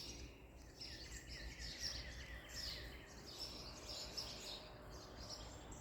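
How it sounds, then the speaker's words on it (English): Outdoor birdsong, a mix of faint chirps and calls that carry on steadily over low background rumble, quiet and somewhat distant. "I don't know if you can hear him over all the wonderful birds."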